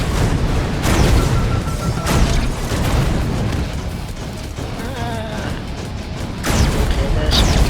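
Gunfire and bombs dropping from the ceiling onto bots in the shooter game Mothergunship: dense continuous blasts and booming impacts with mechanical clatter, loud and busy throughout, with sharper bursts near the start and end.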